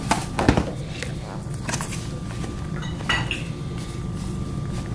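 Dry seasoned flour with garlic, onion powder, cayenne, paprika and black pepper being mixed in a bowl, giving soft scraping and clinking of utensil against the bowl, close and fairly quiet, with no talking.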